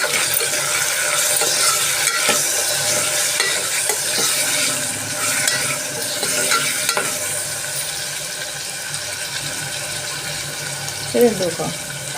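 A spoon stirs turmeric into mutton liver curry in a hot pan, with steady sizzling and frying under scraping strokes, a brief clatter near the end.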